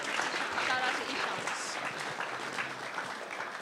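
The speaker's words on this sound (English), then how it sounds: "one more round of applause for Kaustubji" Applause from the audience at an evening devotional music program for Shri Guru Puja in Canajoharie, a dense, steady wash of clapping filling the room for several seconds, with faint voices mixed underneath.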